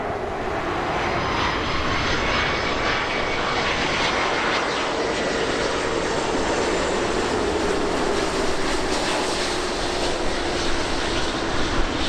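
A heavy jet airliner landing on runway 24 right at Los Angeles makes a loud, continuous engine roar with broadband rushing noise that holds steady throughout.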